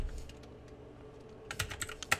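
Computer keyboard keys tapped while playing Rock Band 2 in the RPCS3 emulator, sparse soft clicks at first, then a quicker, louder run of close keypresses.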